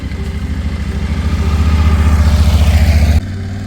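A motorcycle passes close by on a gorge road in Portugal, its pulsing engine loud and steady for about three seconds, rising slightly as it nears before cutting off abruptly.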